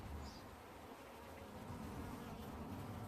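Honeybees hum inside a hive in a dense, continuous buzz, close and fairly soft, with no other sounds or voices.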